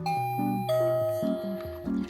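A Daiso toy doorbell with a magnet, sold in Japan, plays a clear electronic ding-dong melody of sustained tones stepping between pitches, near and fairly loud with no talking over it.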